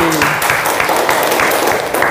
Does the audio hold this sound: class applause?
yes